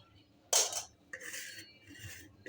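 Vegetables for kofta sabji are stirred in a large cooking pot, giving a few short clinks and scrapes of a utensil against the vessel in an otherwise quiet kitchen, with no talk.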